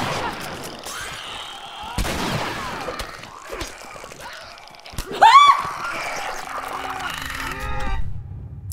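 Sharp bursts of gunfire from The Last of Us, a survival horror video game, crack through a dense, tense mix with a louder flurry mid-way and a short strained cry among the shots.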